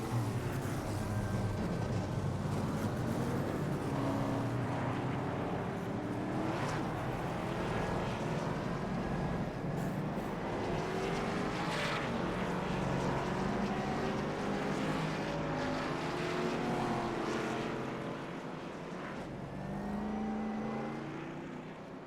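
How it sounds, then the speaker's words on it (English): Race car engines roaring at Homestead-Miami Speedway, a loud continuous blend of several engines with rising and falling pitch sweeps as cars pass, sustained for the whole stretch and easing slightly near the end. "It's a time to let these cars roar to life."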